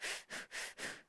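A person imitates hyperventilating by sniffing rapidly through the nose, four quick, close, breathy pulses in an even rhythm before trailing off.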